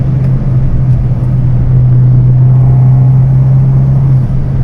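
A stage 3 tuned Fiat 500 Abarth with a TD04 turbo, about 270 hp, heard from inside while driving: a steady, loud low engine drone holds throughout with little change in pitch, and no talking.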